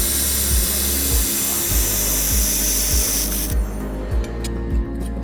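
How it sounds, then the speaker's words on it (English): An air-cooled laser welding machine welds 1 mm thick aluminum with a steady hiss and regular low pulses about twice a second. The hiss thins out partway through while the pulsing continues. "Let's test how powerful our air-cooled welding machine really is. First, we will test aluminum."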